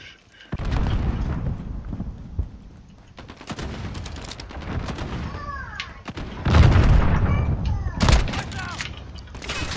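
Shotgun blasts and other gunfire in the first-person shooter Call of Duty: Modern Warfare, a series of loud booming shots with bursts of rapid fire scattered through the clip, while someone talks over the action.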